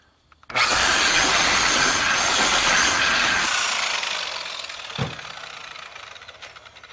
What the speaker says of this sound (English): This is a 3M woolly polishing pad.